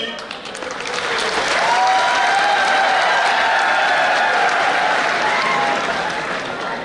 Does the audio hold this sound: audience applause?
yes